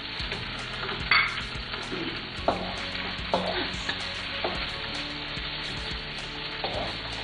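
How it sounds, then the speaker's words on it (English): Peppers and sliced chilies stir-frying in a very hot wok, a steady loud sizzle with repeated scrapes and knocks of a utensil against the pan. "So we're going to cook the peppers up really fast"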